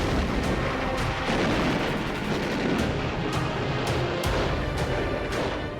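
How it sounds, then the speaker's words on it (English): Heavy naval guns of a fleet firing in a sustained wartime bombardment in the Pacific, a dense, loud rumbling barrage with repeated sharp blasts punctuating a continuous roar, no voices. "Then, the big guns of the fleet open up."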